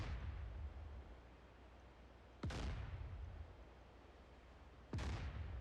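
Two heavy naval gun blasts boom out in a DCS World battle at sea, each a sharp crack trailing into a rumbling decay, spaced about two and a half seconds apart over low background noise.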